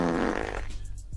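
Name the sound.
fart sound effect on radio show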